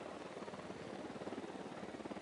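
An Unidad helicopter in Ghost Recon Wildlands gives a faint, distant rotor chop, a steady pulsing whir that continues without a break.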